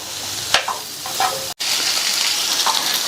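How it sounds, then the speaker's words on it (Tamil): Vegetables with capsicum being stir-fried in a pan, giving loud steady sizzling broken by scraping stir strokes and a brief dropout midway. "கேப்சிகம் சேர்த்து நல்லா மிக்ஸ் பண்ணி விட்டாச்சு"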